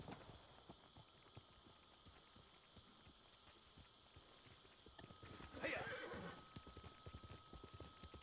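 Rhythmic hoofbeats of a galloping horse in the video game Ghost of Tsushima run steadily throughout, with a brief whinny midway; the sound is faint and slightly tinny.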